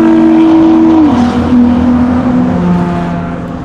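Race cars passing by on a race track, a loud close engine whine sweeping down in pitch as they go past, then fading away.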